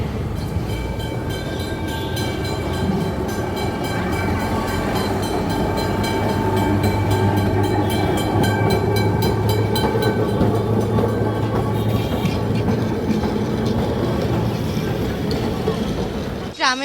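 A Kolkata tram rolls along street rails with a loud, continuous mechanical rumble and rattling that builds and holds close by, ending in a brief high metallic squeal.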